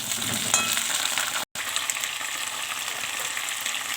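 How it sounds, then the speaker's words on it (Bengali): Cauliflower florets fry in hot oil with a dense, even sizzle, broken only by a split-second dropout partway through. "তেলটা গরম হয়ে গেছে, এবার আমি প্রথমে ফুলকপিগুলো ভেজে নেব।"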